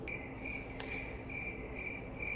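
Crickets chirp in a steady, continuous pulsing trill, fairly close and even in volume throughout, with no voices.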